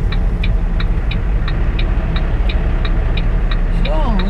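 A heavy truck manoeuvres to park. Its engine rumbles steadily up close while a high, regular beeping repeats throughout.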